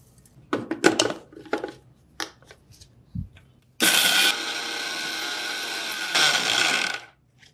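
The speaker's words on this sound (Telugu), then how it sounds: "ఇందులో వేసేసుకొని మిక్సీ పట్టేద్దాం" Kitchen mixer grinder whirring through flax seeds: a few knocks and taps first, then a loud, steady grinding burst of roughly three seconds that swells briefly before stopping.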